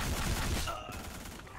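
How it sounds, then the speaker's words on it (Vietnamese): Automatic gunfire in the free FPS shooter Black Squad, a dense rattling burst of rapid shots that fills the first half second, then gives way to a quieter, noisy game background. "À, súng tự động."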